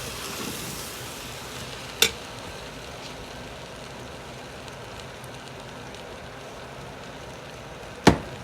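Salt fish cook-up rice ingredients stirred and frying in a pot, a soft continuous sizzle with light scraping, broken by two sharp utensil knocks.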